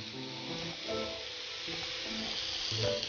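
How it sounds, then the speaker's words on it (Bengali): Vegetables frying in a pan with spices for moong dal, a soft steady sizzle heard close but faint, continuous with slight rises and no voices. "সাতলানো সবজি হালকা করে ভেজে নিই।"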